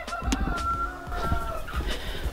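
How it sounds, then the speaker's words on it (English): Newly raised laying chickens cluck steadily in a run converted from an old goat house on a New Zealand homestead, with several hens calling close by in short overlapping bursts. "we're using it to raise some of these new laying chickens"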